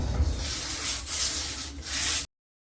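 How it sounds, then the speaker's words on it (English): Sandpaper rubs over a rough tree-trunk wood tabletop to flatten it, in a loud, close, continuous scratchy hiss with slight back-and-forth swells, stopping abruptly after about two seconds. "Sandpaper, and just flatten it off."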